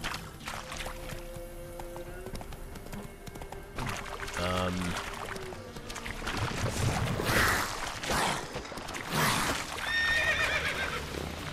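Roach the horse in The Witcher 3 whinnies loudly midway, with hoof clip-clops and splashing water around it and game sounds layered on top.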